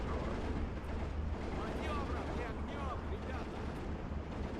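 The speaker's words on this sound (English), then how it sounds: "More mortars than I anticipated" Mortar and artillery fire in the WW2 strategy game Steel Division 2, dense rumbling blasts and booms rolling continuously, with a voice talking over parts of it.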